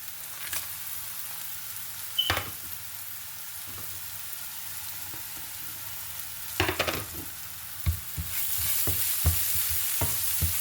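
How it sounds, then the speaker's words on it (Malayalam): Cumin seeds and cinnamon pieces sizzle in oil in a hot pan, a steady close hiss broken by several scraping stirs and a louder burst of frying near the end. "പാനിലേക്ക് ഞാൻ ഇതുപോലെ ഒരു ചെറിയ ജീരകം അര സ്പൂണും 3 കഷ്ണം പട്ടയും കൂടി അതിനകത്തേക്ക് ആഡ് ചെയ്യുകയാണ്"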